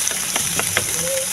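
Steady hissing sizzle of potatoes frying in hot oil, with faint clinks of stirring underneath.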